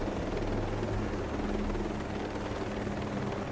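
A helicopter in Ghost Recon Breakpoint roars with a heavy, steady rotor thump and engine rumble, loud and close throughout, with no talk over it.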